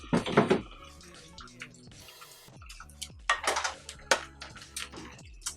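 Ramen noodles being stirred in a pot of boiling water make clinks and clatters of utensil on metal with splashy water sounds, in uneven bursts close by.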